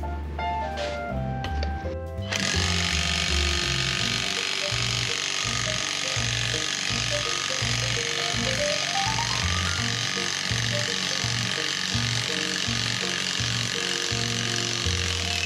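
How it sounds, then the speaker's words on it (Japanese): An impact wrench hammers away on the suspension of a 2005 Honda S2000 (AP1), pressing out a bushing. It makes a steady, loud, buzzing rattle of rapid pulses that runs on continuously after a short clatter at the start. "インパクトレンチで締め上げていきます"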